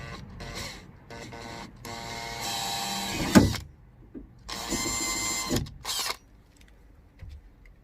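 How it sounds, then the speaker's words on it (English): A power drill whirs in a few bursts, drilling a 4mm hole in plastic, revving up and stopping, with a sharp crack partway through and quieter mechanical handling between runs. "next step is to drill a 4mm hole right here"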